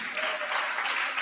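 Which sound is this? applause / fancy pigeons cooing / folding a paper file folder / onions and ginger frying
applause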